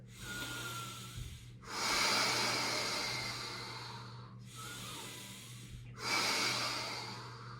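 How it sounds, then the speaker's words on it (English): Deep, slow yoga breaths drawn in and let out through the nose and mouth, close and clear, in two full in-and-out cycles with a low steady hum beneath. "Breathing all the way in and all the way out."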